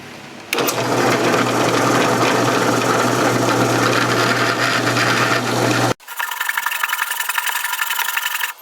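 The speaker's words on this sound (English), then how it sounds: "I'm using a 5/8 inch Forstner bit." A 5/8 inch Forstner bit in a drill cuts a slot in wood for a knock-down table wedge, a loud, steady whirring grind that abruptly changes pitch and drops to a thinner, higher whine partway through.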